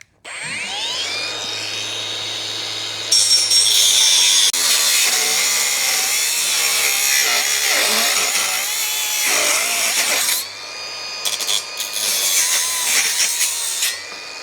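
An angle grinder cuts cable trough sections for an off-grid solar build, a loud, sustained high-pitched whine that holds for many seconds, grows harsher midway, then breaks into shorter bursts near the end.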